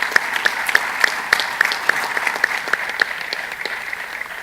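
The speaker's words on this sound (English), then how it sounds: "If we can all actually have a round of applause for our teams" An audience at a CONCACAF announcement for the 2017 Gold Cup groups gives the teams a round of applause, steady close clapping that carries on throughout before gradually thinning out toward the end.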